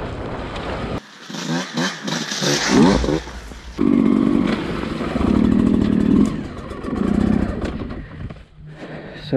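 A 2020 Beta 200RR two-stroke dirt bike ridden on a wooded trail, its engine revving up and down in loud bursts close to the microphone, with wind buffeting in between.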